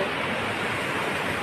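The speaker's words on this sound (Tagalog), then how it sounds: "Ito, maliit na falls din." Small roadside waterfall along Kennon Road in Benguet, heard as a steady, broadband rush of falling water, close and continuous with no clear voices over it.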